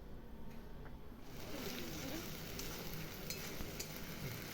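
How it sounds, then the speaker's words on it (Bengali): A spice paste of chilli and cumin cooks down with onions and garam masala in a pan, giving a soft, even sizzle with faint stirring scrapes, quiet and steady. "খুব ভালো করে কষিয়ে নিতে হবে।"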